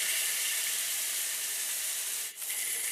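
Steak searing in hot oil in a pan gives a steady, close, broadband hiss that holds evenly throughout, with a brief dip near the end and no talking.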